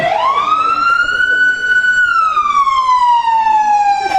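A single emergency siren wails through the Mission district, loud and close, its pitch climbing, holding, then sliding slowly downward across a few seconds.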